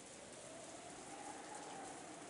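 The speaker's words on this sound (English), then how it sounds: "Just like the previous night, the rain was falling in earnest." Steady rain falls in earnest in the visual novel game Umineko no Naku Koro ni, a continuous, even hiss of drops at low volume with no pauses or voices.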